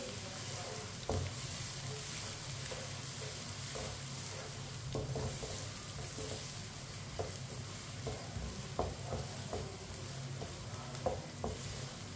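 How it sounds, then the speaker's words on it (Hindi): Finely chopped onions frying in hot oil for chicken biryani, a steady sizzle with scattered pops and crackles as a spoon stirs them, close up with no talking. "अब प्याज को मीडियम आंच पर हल्का सा ब्राउन कर लेंगे।"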